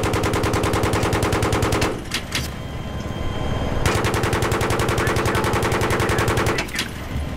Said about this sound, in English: Yeah, I can shoot it from here.